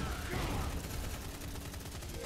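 Sustained gunfire from the sci-fi shooter LawBreakers, a dense unbroken barrage of rapid shots and blasts at steady loud volume throughout.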